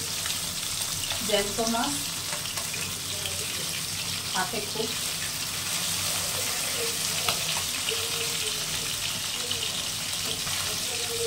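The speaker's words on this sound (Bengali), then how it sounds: "একটা সাইড ভাজা হয়ে গেছে, এটা ভেজে নিচ্ছি।" Tengra fish frying in hot oil, a steady close sizzle and hiss that runs throughout at an even level, with a voice speaking briefly over it.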